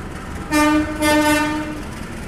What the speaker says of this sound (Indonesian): Lokomotif dari kereta api Dharma Wangsa tengah dilangsir ya teman-teman, dan akan dipasangkan dengan rangkaian kereta